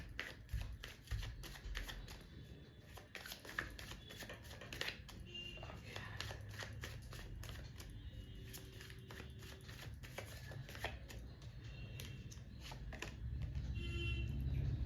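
Tarot cards are shuffled close up in a long run of quick riffling flicks and slides, some bursts denser than others, quiet and without any talking.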